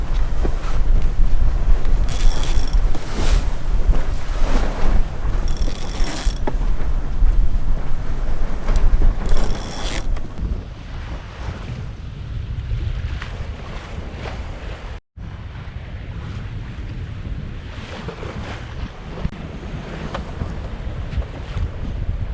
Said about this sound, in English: Wind's freshening.